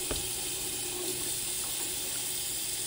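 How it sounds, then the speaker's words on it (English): Tap water pours steadily into a pressure canner for home canning, a continuous close hissing rush with no talk over it. "So I'm going ahead and get my water bath canner filled up, and then I am also getting my pressure canner filled up as well."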